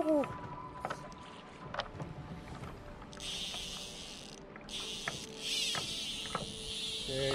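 A paddle board gliding across water during a fly fishing outing, with gentle sloshing and knocking of gear, then stretches of wind and water hiss, all close and moderately loud.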